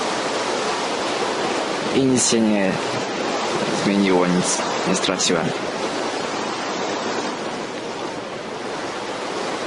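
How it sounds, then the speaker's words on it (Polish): Steady, loud rain in the video game Minecraft hisses throughout, a dense wash of noise with someone speaking briefly over it. "ale ten deszcz jest głośny."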